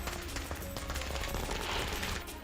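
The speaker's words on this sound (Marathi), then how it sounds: "यावेळी फटाक्यांची आतषबाजी करून कार्यकर्त्यांनी आनंद व्यक्त केला." Firecrackers are set off by celebrating activists in Latur, a rapid, continuous string of crackling pops like a distant fusillade, heard without speech.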